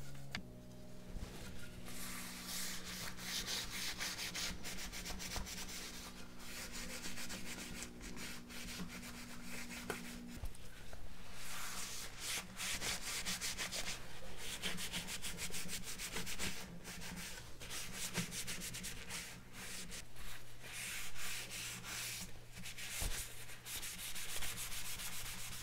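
A small brush works mineral oil into the slots of a solid wood coffee pod holder, giving a steady, close scratchy rubbing that runs continuously over a faint background hum.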